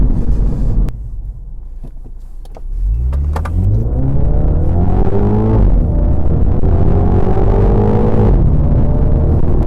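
A Mini F56 John Cooper Works accelerates hard from about two and a half seconds in, its engine note climbing loudly through the gears with a clear shift around the six-second mark, close and without any talk over it.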